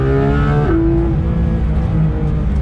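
A GT3 sports car's exhaust revs close to 9,000 rpm, giving a loud, near, harmonic wail that climbs, then drops and settles into a steady high-pitched drone.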